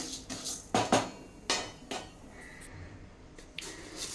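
Roasted lentils scraped from a pan onto a plate, with several close metallic clinks and scrapes of a spoon against cookware in irregular bursts, followed by a faint softer rattle, no talk.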